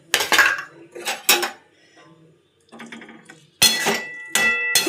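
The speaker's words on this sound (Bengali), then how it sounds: "একটু নেড়ে দিলাম।" A utensil stirs garam masala into vegetarian food in a metal pot, giving loud clattering scrapes and clinks in bursts with quieter gaps between.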